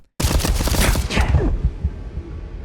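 A loud, rapid burst of gunfire in Starfield erupts suddenly, rattling densely for over a second before trailing off into scattered shots and echoing decay.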